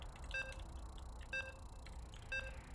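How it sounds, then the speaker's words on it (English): Three short electronic beeps, evenly spaced about a second apart, each a bright tonal blip over a low steady background hum, as a StarCraft match loads. "And you can hear the beeps. We're loading on it."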